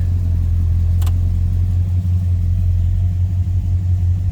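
A 1968 Chevrolet C10 pickup truck engine idles with a steady, deep rumble, close and even throughout, with one brief click near the start.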